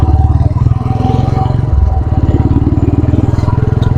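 A Royal Enfield Bullet motorcycle rides past up close with a loud, deep thumping exhaust beat, its rapid, even pulses steady throughout and a voice speaking briefly beneath it.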